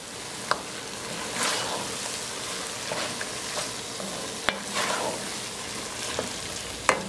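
Almond milk is stirred into crawfish fritter batter in a bowl, giving a wet, swishing scrape with a few sharp clicks of the utensil against the side, close and fairly quiet.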